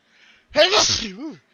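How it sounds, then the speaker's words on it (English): A single loud sneeze erupts after a faint breath, followed by a brief voiced trailing sound, close to the listener. "Sorry about the sneeze."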